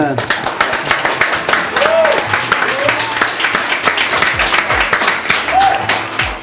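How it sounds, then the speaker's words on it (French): An audience applauds bartenders at a party event, brisk dense clapping with loud individual claps up front, while voices talk and call out over it. "on les applaudit encore, les barman dans Ribbon"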